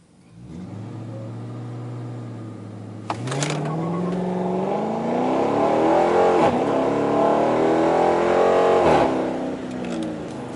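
A 2015 Dodge Charger R/T on 26-inch wheels, traction control off and in sport mode, idles then launches hard from a stop, its V8 roaring loud and rising through the gears with a brief tire spin.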